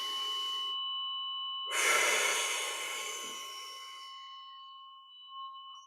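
A deep breath taken during a meditation and sound healing session: a single long, airy exhale that swells and slowly fades, set against sustained ringing tones, with no talking.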